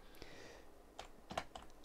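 Keystrokes on a computer keyboard while entering times into a spreadsheet, a few quiet taps spaced out and then a quick cluster of clicks, close and faint with no talking.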